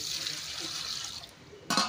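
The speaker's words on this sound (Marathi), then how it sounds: "आता स्वच्छ तांदूळ धुवून घेतोय मी" Ration rice is rinsed in water for making papad, a soft continuous swishing and trickling of water, fairly faint, ending in a brief louder splash.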